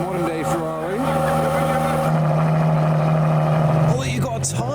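A Ferrari SP3 supercar pulls away as part of a convoy of hypercars, its engine note droning steadily and rising slightly near the end, with other cars nearby and people talking over it.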